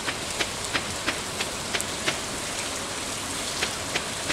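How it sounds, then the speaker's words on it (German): Steady rain falling in the Stardew Valley farming game, a dense even hiss with faint scattered drop ticks at a soft, constant level. "Oh, es regnet."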